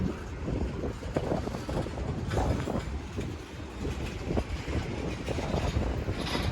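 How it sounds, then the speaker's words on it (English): A very long Canadian National local freight train rumbles past nearby while gathering speed near an international bridge, a continuous heavy roar with rhythmic wheel clatter and some wind buffeting. "Very long local train this time than before I saw last month."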